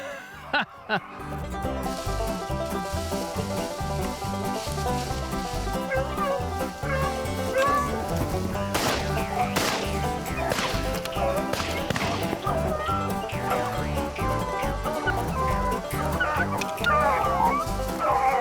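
Hunting dogs baying in a January rabbit hunt in Daviess County, a continuous chorus of overlapping howls and barks from several hounds at middle distance, steady and loud in the outdoor chase.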